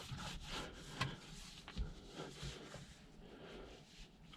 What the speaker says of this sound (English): So we got our handy dandy disinfectant wipes here.